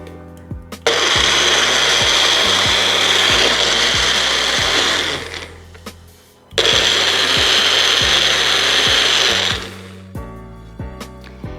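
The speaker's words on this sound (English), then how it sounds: "and I will put it in a food processor here. It's just a little bit. We're going to grind it up." Fresh aloe vera whirs in a food processor in two loud, sustained grinding bursts of about five seconds each, separated by a short pause, with clattering knocks at the start and end.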